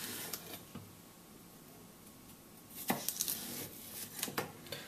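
A knife cutting through a cucumber on a board, a few crisp slicing chops at uneven intervals in a quiet kitchen, close and fairly soft.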